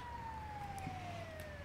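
Ambulance siren in a mega ramp video game: a single steady tone slowly falling in pitch, heard faintly over a low background rumble, without voices.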